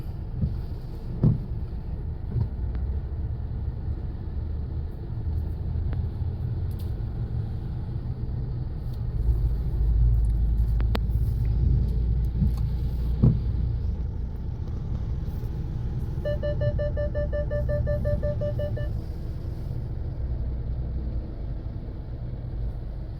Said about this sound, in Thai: รถติดเวียงจันทน์ในยามแรง